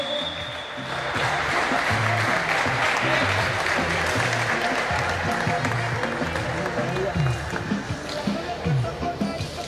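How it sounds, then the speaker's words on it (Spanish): Steady, dense applause from a large crowd at a youth basketball final fills the space, sustained throughout with a rumble of voices mixed in. "Fuerte el aplauso para los equipos."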